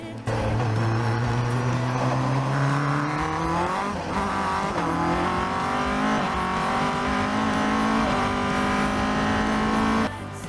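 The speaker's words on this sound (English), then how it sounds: "You could hear just how quickly that Caterham changes up through the gearbox" Caterham race car at a Super Lap Scotland time-attack round, heard from on board as it powers out of a hairpin, its engine note climbing steadily with several quick upshifts, loud and close throughout.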